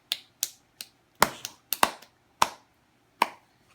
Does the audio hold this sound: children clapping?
yes